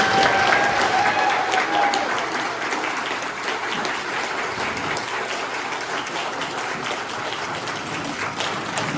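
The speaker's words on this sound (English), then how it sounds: "So give her a big, big round of applause." A crowd at a building dedication ceremony gives sustained applause, a thick, continuous roar of clapping that starts loud and settles slightly, with faint voices mixed in.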